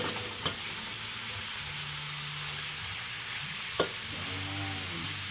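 Dry pancit kabagan noodles toast in a hot pan with a steady, soft sizzle and frying hiss, broken by two sharp clinks of a utensil against the pan.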